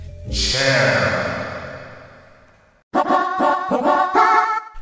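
A single voiced utterance swells and trails off in a long echoing decay, followed by a burst of several clipped, reverberant vocal syllables.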